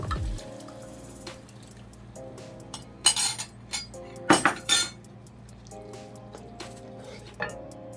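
A spoon stirs ingredients in a cooking pot for Jamaican brown stew fish, with scattered clinks and scrapes against the metal and soft wet squishing, close and intermittent.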